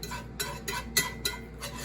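Flour being stirred in a pan while cooking, heard as a steady rhythm of roughly six scraping strokes in under two seconds. Each stroke is a short, dry rasp, close and clear, with no talking.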